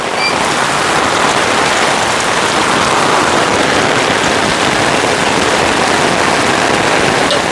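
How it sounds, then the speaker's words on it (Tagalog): Heavy rain, the first of the season, pours down onto cement in a dense, constant hiss of drops, loud and unbroken from start to finish with no voices. "grabe yung ulan mga kabayan. Unang ulan ngayon, pero grabe."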